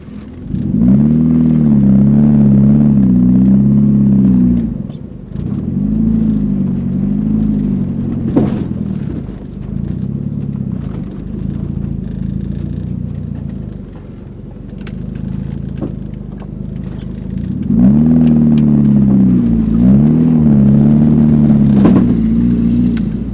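A Mitsubishi Lancer Evo 4 GSR out on a test drive after repairs, its engine droning loud and close with repeated rises and falls in revs, easing off in the middle before pulling hard again near the end.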